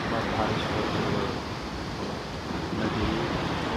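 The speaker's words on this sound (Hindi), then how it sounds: "आप देख रहे हो नदी बिल्कुल तूफान के है" A flooding, overflowing Tons River during heavy rain rushes in a continuous loud roar of churning water, steady and dense throughout with wind buffeting the microphone.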